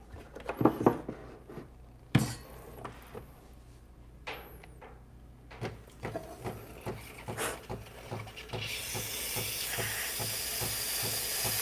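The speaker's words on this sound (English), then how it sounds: "All right, so let's do some steaming." Steam wand on a Flair 58 espresso setup hissing into a jug of milk, a steady broadband roar that builds and holds for the last few seconds after scattered clicks and taps.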